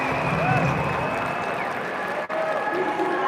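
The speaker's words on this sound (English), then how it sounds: "People are standing up applauding up there." Audience applause from a crowd standing up at a live political event, a continuous wash of clapping and crowd noise sustained throughout, with a brief dip near the end.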